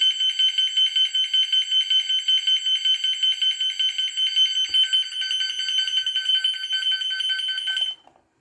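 A loud, shrill electronic deterrent alarm for driving off elephants and monkeys pulses rapidly and steadily with a piercing high tone, then cuts off abruptly near the end.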